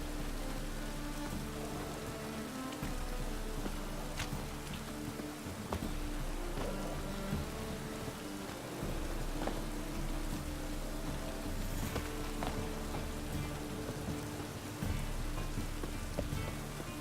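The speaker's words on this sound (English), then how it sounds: "Must be mad running around in this rain." Steady rain falls throughout in The Witcher 3: Wild Hunt, a continuous patter layered over low ambient hum and faint musical tones, with no voices.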